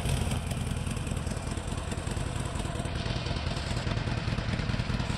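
The driveable motorcycle from a Fallout 4 mod sends out a steady, rough engine chug that runs close and unbroken without any talk.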